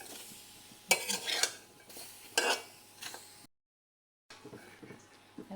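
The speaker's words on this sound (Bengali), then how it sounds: "আমটা কড়াইতে দিয়ে দিলাম।" Mango pieces for pickle get stirred in a wok, with bursts of metal scraping and clinking over a faint sizzle, close by, broken by a short silent gap.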